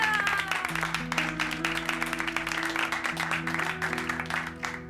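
Dense applause rings out at the close of a scene in a Hindi TV comedy, steady sustained clapping with a bright musical tone underneath, no talking.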